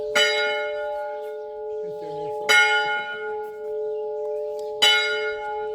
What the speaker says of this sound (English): And there's the church bells.